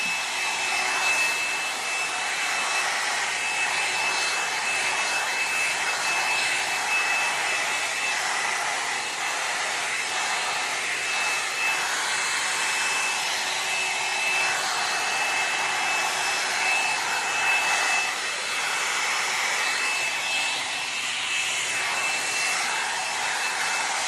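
A hair dryer blows steadily and loudly for the whole stretch, a constant whooshing roar with a faint high whine and no pauses.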